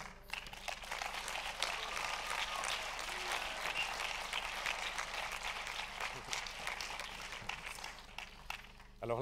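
Audience at a film festival applauding at an opening ceremony, a broad wash of clapping sustained for several seconds, moderately distant in a large hall, with some talk mixed in.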